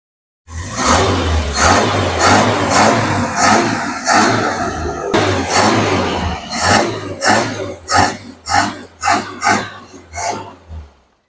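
Engine of a 1986 Suzuki Carry 1.0 pickup idles roughly then is revved in a series of sharp, loud blips that quicken toward the end, close up and with no one speaking.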